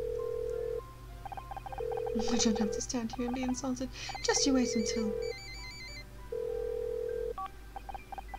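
Phone dialing and ringing in the Murder By Numbers video game: steady electronic ring tones come and go in repeated bursts, with a line of character dialogue spoken over the middle.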